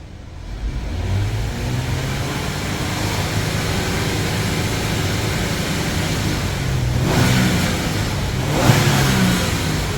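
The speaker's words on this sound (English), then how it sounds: "Let's snap our throttle and see what happens." A 2001-2004 Nissan Pathfinder R50 engine with a suspect mass air flow sensor idles and then surges on a snap of the throttle, a loud close engine drone that rises twice near the end.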